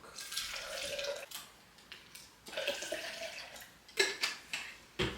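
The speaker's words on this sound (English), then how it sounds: "Take our coffee cup. We're going to put almond milk." Almond milk is poured into a coffee cup with soft liquid trickling and splashing at close range, a few light clinks of the cup breaking in near the end, with no talking.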